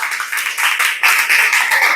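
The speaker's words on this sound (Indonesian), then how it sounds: "Tepuk tangan untuk kelompok 3." Classroom audience clapping for a presenting student group during a teacher training assessment, loud close rhythmic claps in steady surges, with brief pauses.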